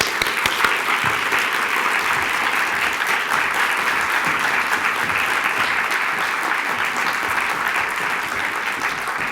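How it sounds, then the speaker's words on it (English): Warm audience applause at a talk welcoming a guest speaker, a dense, steady clapping from a large crowd that stays loud and even throughout without voices. "Please join me in giving a warm applause"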